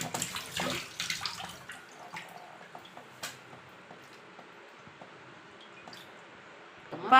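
Dried anchovies being washed by hand in water with turmeric, giving splashing, sloshing and squishing sounds that are louder at the start, then softer and intermittent, with a sharp splash at the end.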